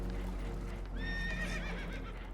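Horses in Red Dead Redemption 2 whinny in a burst of high, wavering neighs over a low rumbling game background, with faint hoof clatter mixed in.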